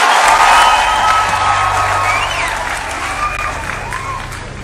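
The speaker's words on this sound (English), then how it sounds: "Applause to His Excellency for such a wonderful speech" Loud crowd applause with cheering after a presidential speech in Kenya, steady and close, with voices and whoops mixed into the clapping throughout.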